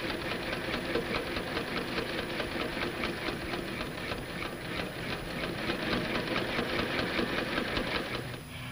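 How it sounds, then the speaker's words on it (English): A sewing machine stitches a pinned skirt and bodice together for a 1956-style jumper, a steady close mechanical whir with rapid rhythmic needle pulses running continuously under a light hiss, no voices, easing off at the very end. "she stitches the pinned skirt and bodice together."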